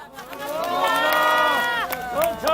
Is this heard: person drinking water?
no